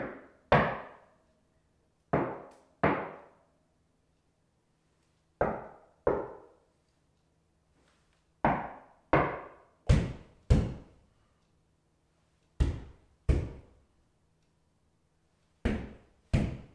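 Knuckles knocking on a door, about a dozen hollow thuds in quick pairs with pauses between, close and clear over near silence with a faint hum.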